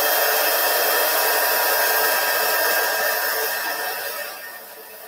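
A heat tool blows steadily and loudly over a stained mosaic piece, a continuous airy whir that fades and softens toward the end.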